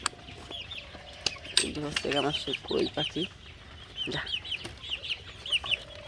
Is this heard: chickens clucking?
yes